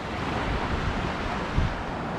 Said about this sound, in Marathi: तुम्ही बघू शकता भाटे हा समुद्रकिनारा आहे